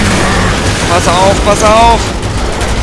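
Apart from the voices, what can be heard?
gunshots in the video game Resident Evil 6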